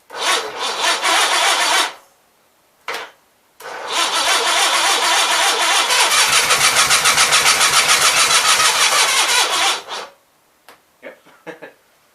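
An Onan B43 engine cranks in a loud burst, sputters briefly, then catches and runs steadily for about six seconds before dying, followed by a few faint clicks and knocks.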